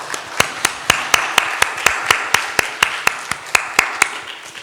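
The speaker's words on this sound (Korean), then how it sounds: "이들을 위해서 한번 감사의 박수 한번 하겠습니다" A church congregation claps together during a Sunday worship service, sharp evenly spaced claps ringing out about four per second, loud and close, with no talk over them.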